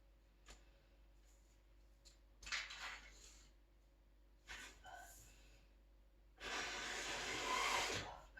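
Several short puffs of breath, then a long, strong blow of air close to the microphone, aimed at holding a sheet of paper against a wall in a breathing exercise, with quiet pauses between attempts.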